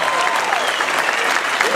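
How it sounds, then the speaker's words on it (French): Dense, steady applause from a crowd at a club couscous gathering, loud and continuous, with a few voices faintly mixed in. "qu'on applaudisse, mais de tout cœur"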